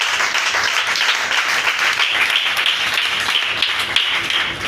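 A church congregation bursts into sustained applause and clapping acclaiming the word of God, a dense steady wash of many hands close and loud throughout.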